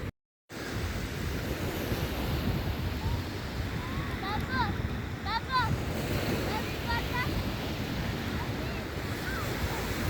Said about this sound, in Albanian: O deti madhe.